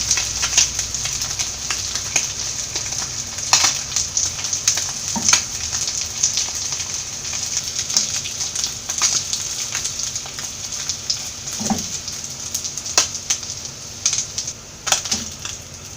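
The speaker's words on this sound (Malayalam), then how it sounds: "ഫിഷൊക്കെ 2 സൈഡും ഫ്രൈ ആയി വന്നിട്ടുണ്ട്." Lady fish frying in hot oil in a Kerala Kottayam-style fish fry, giving a steady close-up hiss with dense, irregular crackling pops throughout and no talking.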